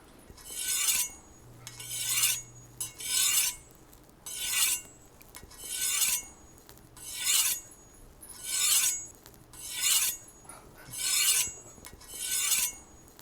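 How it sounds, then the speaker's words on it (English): A dull kitchen knife is drawn across a sharpening stone in nine steady, evenly spaced gritty strokes, each a rasping swish about a second long followed by a short pause. "I use my thumb to determine the angle that I am sharpening it at"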